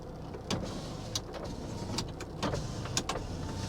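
Power windows on a C4 Corvette running, with a low whirring motor hum under several short clicks and thumps at intervals, close and moderately quiet, with no talk.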